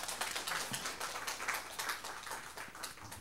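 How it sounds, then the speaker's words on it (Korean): A church congregation claps in welcome during a Sunday service, a moderate, fairly rhythmic patter of hands that carries on steadily without talk. "우리 또 박수로 환영하겠습니다."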